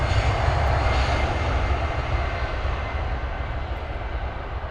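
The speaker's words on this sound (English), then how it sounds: "now we have 3 Wizz Airs on the bounce for departure" Wizz Air airliners departing Luton Airport, a steady loud roar of aircraft engines, continuous and even throughout with no voices.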